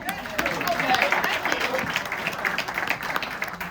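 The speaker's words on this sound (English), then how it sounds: "Applause for Tom." Audience at an evening book party clapping in a venue, a fairly close burst of applause with scattered individual claps and some crowd voices, fluctuating slightly as it continues.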